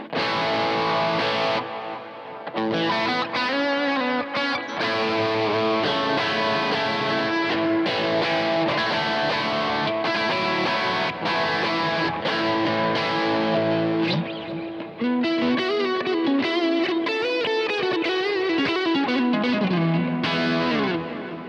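A distorted electric guitar through a Kemper Stage with a drive pedal, drenched in reverb and echoing delay, plays sustained chords and a melodic line, washy and continuous, with no talking.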